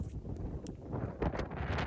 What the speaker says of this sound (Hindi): इतनी तेज हवा आई ना एकदम से।